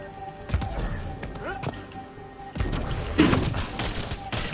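Shotgun gunfire in the video game Mass Effect Andromeda, several heavy booming blasts scattered among thuds and combat noise, with a voice talking over part of it.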